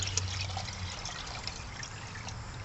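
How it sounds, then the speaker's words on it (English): Water is poured into a brewing container for a bunny brew, a soft continuous trickle and splash running steadily at low level with no speech. "You dump your water in there"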